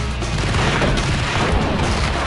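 Dense, loud gunfire in the video game Max Payne, shots and booms packed together without a break for a couple of seconds.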